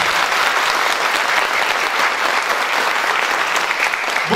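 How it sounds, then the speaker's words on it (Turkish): A large audience claps steadily and loudly throughout at a primary school theatre show in Bor, Turkey: dense, continuous applause with no break and no voices. "Değerli öğretmenimi ve öğrencilerimizi bir kuvvetlice alkışlayalım."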